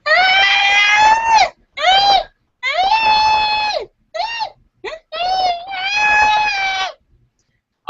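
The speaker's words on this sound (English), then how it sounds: "most of his communication is just a shrill, high-pitched screech for pretty much everything" A baby boy lets out a run of shrill, high-pitched screeches, loud and close, in about six separate wavering bursts of different lengths with short gaps between them.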